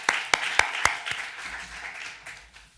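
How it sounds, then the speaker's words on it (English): A handful of sharp, distinct claps open, then thin into scattered, quieter clapping from a small audience greeting a professor before his lecture, fading out after a couple of seconds. "A big applause for him."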